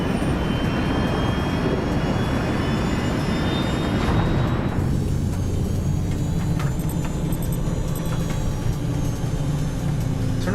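Jet airliner engines during climb in a dramatized air disaster reconstruction, a loud steady roar and whine that shifts tone partway through and then settles into a lower constant drone.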